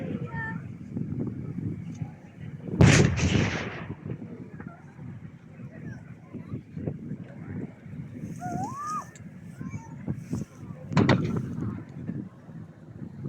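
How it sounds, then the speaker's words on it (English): A British 25 pounder artillery gun fires at a WWII reenactment show, two loud booms several seconds apart heard from a distance across open ground, with wind buffeting the microphone and a commentator talking throughout. "British 25 pounder artillery is very effective as a battlefield support weapon, because it can be moved very quickly, set up and fire again."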